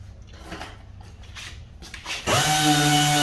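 A power sander with a 600-grit disc starts up and whirs steadily, dry sanding a plastic headlight after a few light scrapes and handling sounds.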